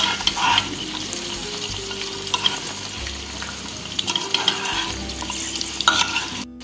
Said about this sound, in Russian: Пару минут обжарим в масле.